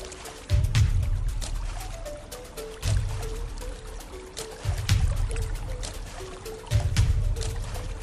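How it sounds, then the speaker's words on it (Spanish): A hand repeatedly slaps the water surface of a river to attract a crocodile, four heavy splashes at roughly two-second intervals, with trickling water and faint background noise between them. "El capitán sigue golpeando el agua"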